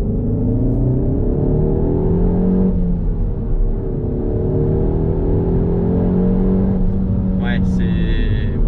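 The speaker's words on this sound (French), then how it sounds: "Il faut absolument qu'on entende ce mode sport avec ce fameux bruit." A Peugeot 308 GTI runs its engine in sport mode, a loud, steady, close drone with shifting tones throughout, ending in a brief high chirp.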